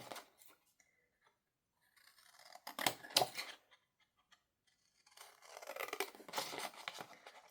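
Scissors snipping paper for a Christmas-themed journal at a desk, short quiet bursts of crisp cutting and rustling close by, separated by near silence.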